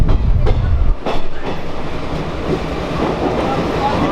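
Shramjeevi Express superfast train running on rails, a steady loud rumble with rhythmic clickety-clack wheel beats early on, heard close from on board with wind noise.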